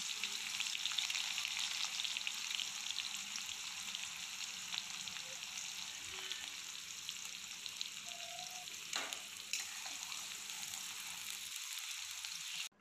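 Onions frying in a pan for a coriander-mint chicken fry, a continuous soft crackling sizzle at low volume, fairly even throughout with a faint scrape or two near the end.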